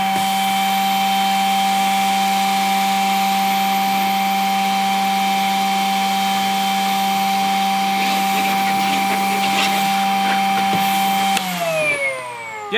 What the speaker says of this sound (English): I can take my new cordless multivac and I can HEPA filter all the way around the house